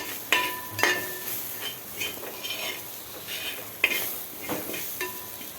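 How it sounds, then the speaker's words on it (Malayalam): Masala paste and vegetables sautéing in oil, a light sizzle broken by several sharp spoon-against-pan scrapes and clinks at uneven intervals. "അരപ്പ് ചേർത്തു നന്നായിട്ട് വഴറ്റിയിട്ടുണ്ട്"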